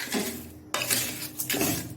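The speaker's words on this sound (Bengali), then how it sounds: "একটু ভেজে নিচ্ছি।" Washed, sun-dried ingredients for homemade bird food being dry-fried in a pan, with a utensil scraping and clinking against the metal in a few close, uneven strokes, no talking.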